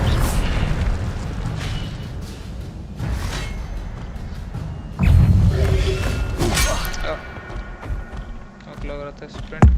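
Spell combat in Hogwarts Legacy, with an Incendio fire spell cast among booming, crashing impacts and bursts over a dense, continuous game-effects bed, with voices talking intermittently throughout.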